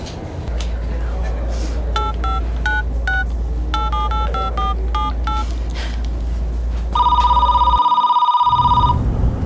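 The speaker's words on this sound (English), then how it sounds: "Phone call." A telephone rings for an incoming call in a jail setting, first as a string of short chirping tones, then a loud continuous electronic ring close by, over a steady low hum.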